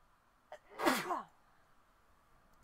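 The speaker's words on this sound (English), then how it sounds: "Oh, I'm gonna sneeze." A single loud human sneeze, preceded by a faint catch of breath, bursts out sharply and fades within a fraction of a second, leaving near silence and no speech.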